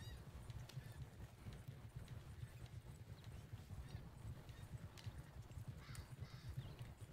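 Horse hooves clip-clop steadily in Red Dead Redemption 2 as the horse runs, a continuous rhythmic patter of low thuds at moderate distance, with no talking.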